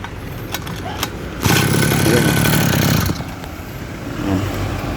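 A Kawasaki TD40 brushcutter with a missing clutch cup, already warmed up, fires and runs steadily at a buzzing idle for a couple of seconds, then settles lower, close and loud, with a voice talking over it.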